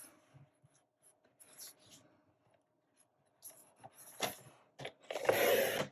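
A sheet of a 6x6 paper pad being cut for a flip book, a few scattered scrapes and taps, then rising rasping strokes and a loud sustained scratching cut near the end, close and without speech.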